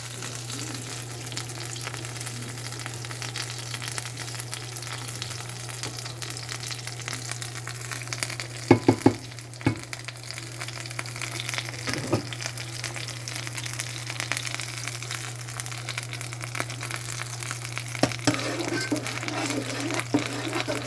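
Ham frying in a pan alongside grilled cheese, a steady soft sizzle with a low constant hum and a few faint clicks, no talking.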